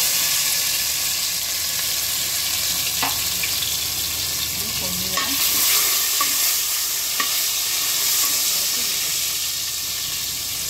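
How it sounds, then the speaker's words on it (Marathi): Crushed garlic and curry leaves sizzle loudly in hot oil with cumin during a tempering, a steady dense hiss with a few soft stirring clicks, close and continuous throughout. "जिरं टाकून झाल्यानंतर आपण लसूण आणि कढीपत्ता छान ठेचून घेतला आहे मी, तो आपण टाकून घेऊया"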